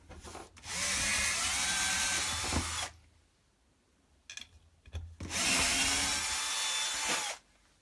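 A drill with a 3 mm bit bores out the thread of a pedal lever on a drilling board, running in two loud, sustained whirring bursts of about two seconds each, separated by a quiet gap with faint handling noise.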